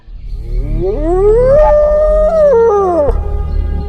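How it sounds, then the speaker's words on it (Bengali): A cartoon hyena lets out one loud, harsh call that rises and bends into a long, wavering howl, close and alone for several seconds before it drops away. "তারপর হায়নাটা কর্কশ শব্দে জোরে ডেকে ওঠে।"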